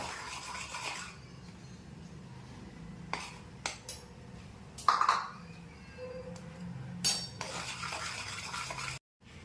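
A spoon stirring and scraping in a pan as milk powder is worked into hot milk for mawa modak, giving soft rubbing strokes with a few sharper clinks against the metal, close and steady with no talking.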